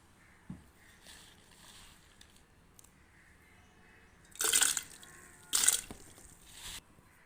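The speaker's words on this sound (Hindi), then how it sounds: "बाल्टी में हमने 2 कप पानी ले लिया है। इसमें हम गुड़ डाल देंगे।" Half a kilo of jaggery dropped into a bucket holding two cups of water gives two short, splashy plunks a second apart, standing out against a quiet background.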